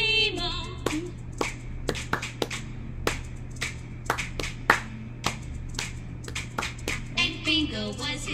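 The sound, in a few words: children clapping during the Bingo song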